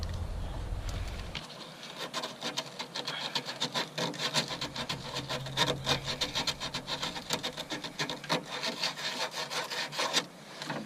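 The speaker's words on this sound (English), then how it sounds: "I think I may need to slightly sand this down because it's not going in." A stock 5/16 fuel hard line being sanded down by hand for an AN fitting: quick, continuous rasping strokes in a steady back-and-forth rhythm, close up, with no talking.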